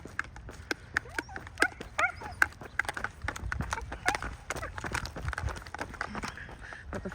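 A dog barks in the distance during a rainy morning walk, a series of sharp, irregular yaps and yelps that come in bursts over soft outdoor background noise.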